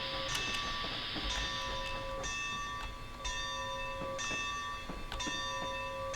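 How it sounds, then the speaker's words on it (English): American narrow gauge train in a train simulator game, its bell ringing in repeated clear strokes over a steady rolling rumble of the locomotive and cars. "Proper American narrow gauge for train sim."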